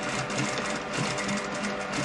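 A sewing machine stitches a shirt collar at a slightly longer stitch length, producing a loud, continuous close-up whir with no pauses.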